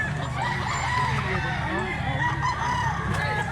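A large black leg rooster crows and clucks among other chickens, the calls moderately close over a noisy yard with talk in the background.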